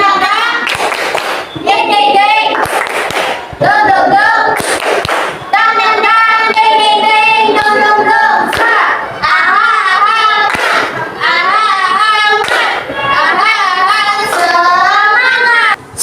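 A group of children does rhythmic tepuk semangat spirit clapping, sharp hand claps in quick patterned bursts that alternate with chanted voices through most of the stretch.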